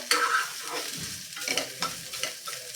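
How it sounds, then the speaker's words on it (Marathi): A pea and coconut karanji filling being sautéed over low heat in a pan, with close scraping and stirring strokes over a soft sizzle. "बघा अशा पद्धतीने एक साधारण तीस ते चाळीस सेकंद हा आपण परतून घ्यायचा आहे मंद आचेवरच परतून घ्यायचा"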